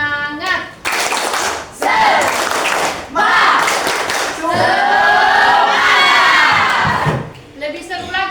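Children clap together in quick bursts of rhythmic spirit clapping in a classroom, loud and close, with a teacher's voice and children's shouts breaking in between the rounds.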